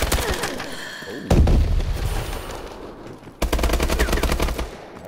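Call of Duty: Advanced Warfare gunfire: loud, rapid automatic bursts crackle up close, broken by a couple of heavy thumping impacts, with the shooting resuming in a dense rattling stream.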